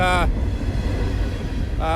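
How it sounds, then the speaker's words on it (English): Freight train with propylene tank cars and grain cars rolling past in the first snowfall, blowing snow toward the listener: a loud, steady low rumble and rush in the middle, with brief horn-like tones at the start and end. "Right now the train is blowing the snow in this direction"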